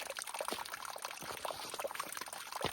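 Water trickles from a pipe set at a trail water source into a CNOC filter bag on the Appalachian Trail, a steady, faint, close pour with small splashy fluctuations and no talk.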